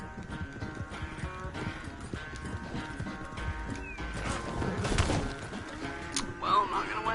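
Horse hooves clip-clop at a gallop in the Red Dead Redemption 2 video game, with a brief whinny, steady rhythmic thuds under a continuous game soundtrack and someone talking over it.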